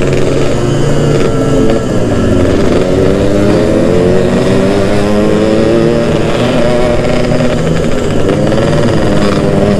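A Yamaha RX King two-stroke motorcycle engine revs loud and close, its rasping buzz rising and falling in pitch through repeated throttle blips over a steady rough idle, with no talking.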